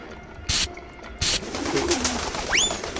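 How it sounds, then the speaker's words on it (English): Pigeons coo in the Jazzpunk video game, low soft calls sitting under two bursts of loud hissing noise and a rising whistle-like chirp near the end. "Damn pigeons!"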